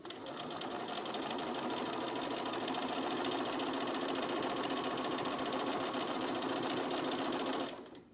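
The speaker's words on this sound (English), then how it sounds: "I'm going to back stitch again to reinforce that edge" Sewing machine back stitching a washable fabric medical mask: a steady, fast mechanical whir and needle patter running continuously for about eight seconds, close and even, then stopping abruptly, with no talking.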